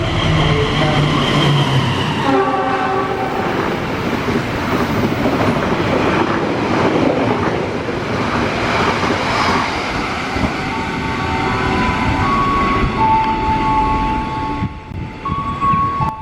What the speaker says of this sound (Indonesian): Barusan kereta api Parahyangan 132 spesial memakai livery tematik edisi HUT RI ke-80.